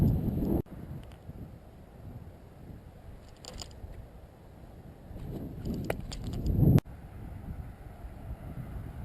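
Gusty outdoor wind buffets the microphone in a low, uneven roar, swelling to a loud rush near the end before cutting off abruptly, with faint rustling underneath.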